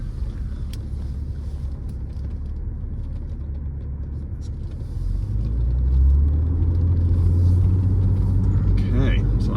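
A 1997 Porsche 993 911 Cabriolet Tiptronic idles steadily just after a first-crank start, a low even rumble close by that grows slightly louder midway, with someone talking over it.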